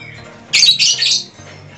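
A caged colony songbird, an Indonesian bird kept on plain feed, lets out a loud, harsh squawk lasting about a second, close by, with a low steady hum underneath.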